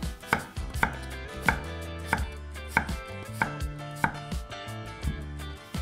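A knife chops repeatedly through a daikon radish, halved and cut into slabs on a cutting board, sharp regular taps about twice a second, close by with no speech.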